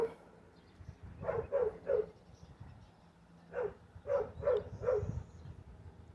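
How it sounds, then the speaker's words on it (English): Two volleys of distant-sounding dog barks, three in the first and four in the second, separated by a quiet pause with low background hum. "We hear him barking."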